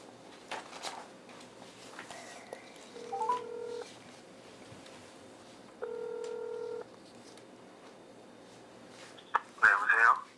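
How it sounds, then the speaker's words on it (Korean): Telephone call connecting on a radio broadcast: a few quick keypad taps and tones, then two ringback tones spaced apart, ending with a voice picking up. "네, 한번 전화 연결해 볼게요."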